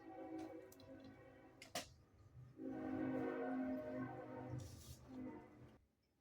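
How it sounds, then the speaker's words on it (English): A train goes by with low rumbling and long horn blasts, the tones swelling and breaking off before the noise fades away to quiet. "Train coming."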